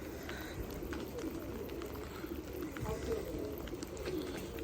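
Pigeons cooing and fluttering close by, a steady murmur of birds with faint background noise throughout.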